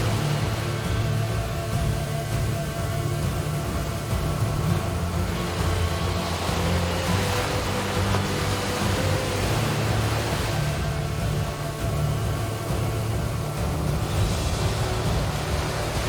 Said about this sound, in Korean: 파도가 사정없이 그의 몸을 덮칩니다.